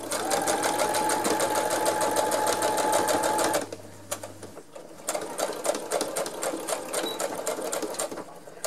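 A sewing machine runs fast and steady while stitching curtain fabric, then stops abruptly, leaving quieter shuffling and handling sounds.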